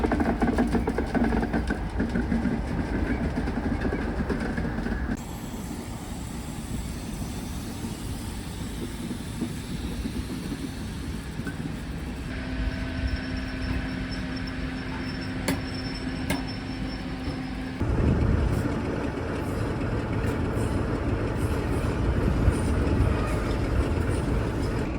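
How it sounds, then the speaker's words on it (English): The Northern Belle, a diesel-hauled luxury dining train, rumbles into a passing loop with a steady, droning engine and wheel noise that shifts as it rolls slowly past, with no one speaking. "The Northern Belle is a luxury dining train which now typically travels as far as Rannoch only and reverses."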